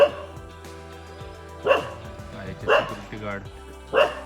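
A dog in a Konkan village barks three times at spaced intervals, fairly close and loud against a quieter background.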